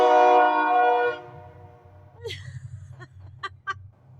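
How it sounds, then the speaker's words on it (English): A train horn blares loudly at first, then fades as a low rumble of rail cars rolls past, with bird chirps dotting the background. "there's a train going by"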